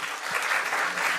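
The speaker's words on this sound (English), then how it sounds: "Another big round of applause for them." An audience applauds panelists at a panel discussion on careers in football law and administration, a steady wash of many hands clapping, fairly close and sustained throughout with no talk over it.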